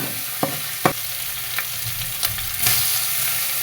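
Ground onion, garlic, ginger and cumin paste with whole garam masala fries in hot oil, giving a steady close sizzle broken by a few sharp scraping stirs of a spoon.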